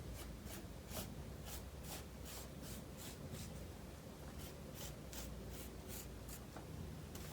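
A pen tracing design lines onto fabric held against a window, a steady close scratching drawn out in quick repeated strokes, with soft rubbing between them.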